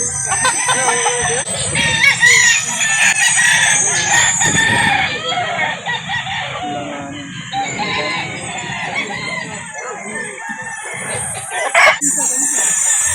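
At a Calauan, Laguna chicken market, roosters crow repeatedly over steady clucking from many chickens, loud and close, with people talking and bargaining in the background throughout.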